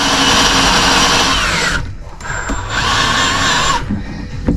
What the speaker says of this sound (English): using a Forstner bit to make countersinks in the board